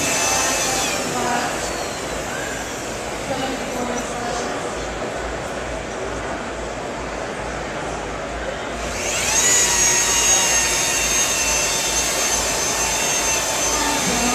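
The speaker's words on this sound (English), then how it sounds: "Now I'm just floating the buffer on the surface, just the weight of the buffer." Polishing buffer running on car paint with compound, only the machine's weight on the pad, a steady loud whirring drone that rises slightly in pitch and intensity near the end amid faint background noise.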